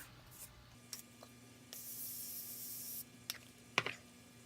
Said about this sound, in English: I'm going to be taking the Morphe Continuous Setting Spray